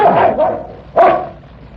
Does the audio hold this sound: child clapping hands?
no